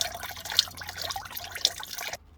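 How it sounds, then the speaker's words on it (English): Liquid drains from the filter of a 2017 VW Transporter T6 2.0 diesel during a service, a steady close trickle with two sharp drips, ending abruptly. "Drain whatever excess is in that filter."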